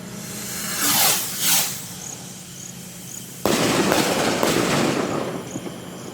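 A large firecracker called a Big Quitis, set off outdoors during New Year celebrations, fizzes with a hissing fuse burn, then bursts in a sharp loud crack followed by a sustained crackling roar.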